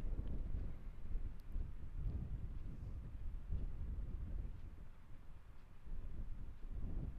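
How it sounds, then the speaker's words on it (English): Strong wind buffets the microphone on a Utah road trip near Red Canyon and Panguitch, a steady low roar with gusty surges throughout and no talking. "that wind is just whipping"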